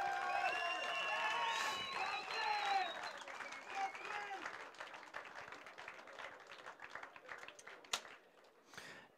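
An audience applauds Team USA anglers at a live 2017 bass fishing competition weigh-in. The clapping is dense and sustained and slowly thins out, with a voice speaking over it at the start.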